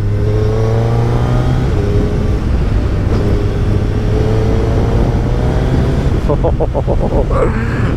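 A loud 2024 Suzuki Hayabusa sport motorcycle engine revs steadily, rising and falling in pitch, then a few quick throttle blips near the end; no talking.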